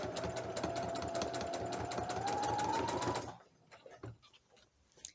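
A sewing machine runs fast and steadily for about three seconds while stitching back and forth on shorts, then stops, leaving faint clicks and handling noises.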